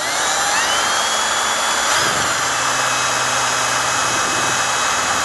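A drill-driven mixer whirs steadily and loudly throughout as catalyst is mixed into resin for a boat floor, with no talking.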